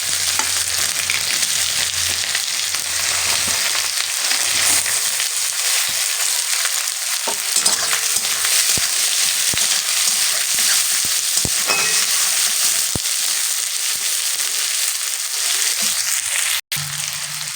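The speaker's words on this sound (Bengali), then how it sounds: "এবার এই যে কুচনো কেটে রেখেছিলাম পেঁয়াজ, এগুলো দিয়ে দিই" Chopped onions fry loudly in a pan with whole cumin, cloves and cinnamon, making a dense, continuous close-up sizzle with faint stirring scrapes that briefly cuts out near the end.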